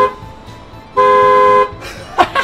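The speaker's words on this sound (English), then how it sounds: "This is the horn of the bus." A school bus horn blares once for well over half a second, a loud steady tone close by, then a few brief excited vocal bursts follow.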